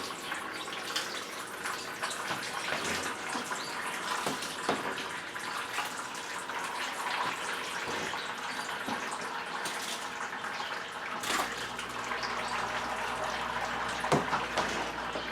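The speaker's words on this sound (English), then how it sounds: "put it in the sparge bucket, and let's drain all the liquid off" Apple rye whiskey mash liquid drains through a sparge bucket, pouring and splashing steadily in a continuous rushing stream, with a few louder drips and gurgles, close and unbroken throughout.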